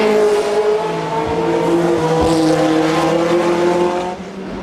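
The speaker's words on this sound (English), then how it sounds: "Marseille loses control of his Lotus in the chicane" A historic rear-engine Formula 1 Lotus spins in a chicane at a street circuit. Its engine drones loudly and steadily with shifting pitch and a faint tire scrub, and fades out at the end.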